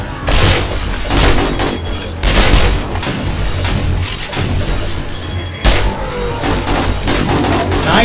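Rapid bursts of MP5 submachine gun fire during a horde night in the video game 7 Days to Die, loud and repeated across the clip with booming impacts mixed in.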